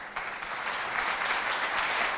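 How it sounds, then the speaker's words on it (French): Audience at a televised school quiz competition in Mao, Chad, applauding the jury members, a steady, dense burst of hand clapping that holds at even loudness for a couple of seconds. "Applaudissez-les bien fort, s'il vous plaît."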